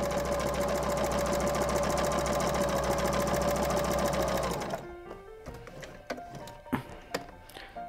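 A sewing machine stitches across the top of a fabric apron with a steady, fast mechanical whir for several seconds, then stops, leaving scattered clicks and handling noises.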